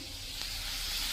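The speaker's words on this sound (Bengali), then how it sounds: "এইটা ভাজা হচ্ছে" Food frying in a wok, a steady bright sizzle and hiss heard close and continuous for about a second, with a faint tap partway through.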